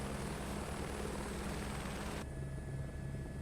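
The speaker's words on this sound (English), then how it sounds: "this is so much nicer flying the helicopters with the gyroscope over the stick" Helicopter rotor and turbine drone in the video game Microsoft Flight Simulator 2024, a steady, loud, continuous whir with a low rhythmic beat, shifting in tone partway through.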